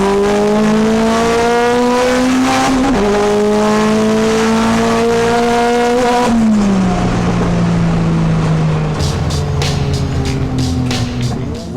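Modified compact race car on a drag run, engine howling loud and close as it revs up through the gears, with sharp shift breaks before the pitch drops and it winds down.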